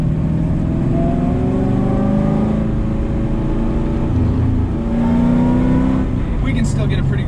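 A Mazda RX-7 with a swapped-in GM LS V8 engine drives and accelerates, its deep rumble climbing in pitch through repeated pulls, heard close and loud from inside or near the car and held back from full throttle.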